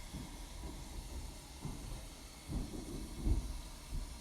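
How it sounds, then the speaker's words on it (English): Lithium metal floats and gently fizzes on the surface of water as it gives off hydrogen gas: a faint, steady hiss with soft low bubbling pops, close and quiet. "It floats on the surface of water because its density is about half of water, gently fizzing and giving off hydrogen gas."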